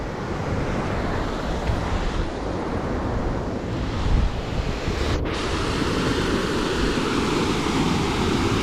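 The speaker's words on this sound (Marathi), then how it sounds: "डॅम तुडुंब भरलेलं आहे मस्त गारगार वारा" Cool wind sweeps over a brimming Morbe dam near Panvel in monsoon season, a constant close roar of gusts buffeting the microphone, with water washing underneath.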